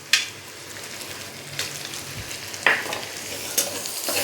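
Egg bhurji with tomato and frozen peas is stir-fried in a pan, a soft sizzle broken by several sharp scrapes and taps of a spatula, close and unaccompanied by speech.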